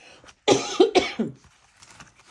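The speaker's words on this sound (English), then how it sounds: "I'm going to cough, excuse me" A few short, harsh coughs close up, in a quick cluster of three or four bursts, then quiet room tone.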